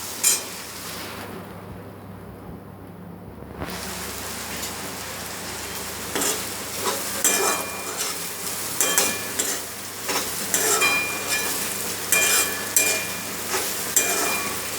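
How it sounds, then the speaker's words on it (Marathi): Okra and potato stir-fried in hot oil, a soft sizzle broken by repeated scraping stirs of a spoon against the pan, close and alone without talk. "भेंडी आणि बटाटा चांगला परतायचा आहे।"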